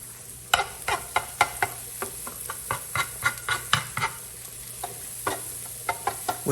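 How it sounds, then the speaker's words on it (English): Fresh basil pesto cooking over medium heat in a pan, a constant sizzle and bubble broken by a rapid series of sharp utensil scrapes and stirring strokes, close up with no voices. "You can see everything starting to bubble up here, so that pesto is starting to cook now."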